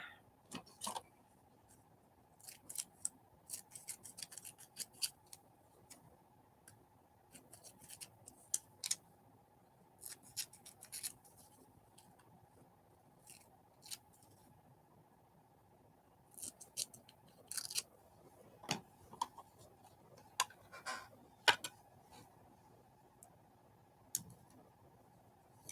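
Scissors trimming small paper lip cut-outs, a close, sparse series of crisp snips and clicks with quiet gaps between cuts.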